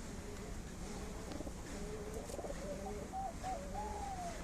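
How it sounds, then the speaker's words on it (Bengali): Pigeons coo softly and repeatedly from a loft on an overcast, windy day, the low rolling calls steady against a constant rush of wind. "আর এই যে আমার অন্ধ পায়রা"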